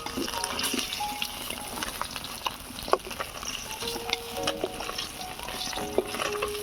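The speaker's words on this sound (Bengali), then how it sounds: "মাছ ভাজা হয়ে গিয়েছে এবারে তুলে নেব" Koi fish frying in a pan gives a steady, moderate hiss of oil, dotted with small pops and a few sharper clicks throughout.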